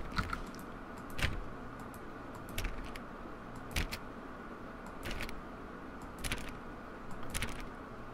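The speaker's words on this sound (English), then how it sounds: "Clicking doors." Doors clicked in the video game The Stanley Parable give off sharp, isolated clicks, about seven spaced irregularly over a quiet, low background hum.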